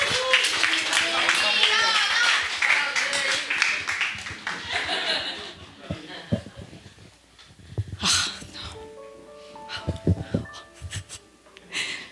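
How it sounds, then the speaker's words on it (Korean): A church congregation at a vision ceremony claps to welcome a pastor's wife to the front, with laughter and chatter mixed in. The clapping is brief and bunched at the start, then fades into spoken voices. "우리 현아 사모님 나오실 때 우리 큰 박수로 한번 환영하도록 하겠습니다"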